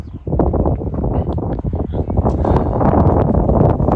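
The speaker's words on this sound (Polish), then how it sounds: "Wiatr jest dzisiaj duży." Strong wind buffets the microphone in loud, continuous gusts, rumbling and rustling without a break.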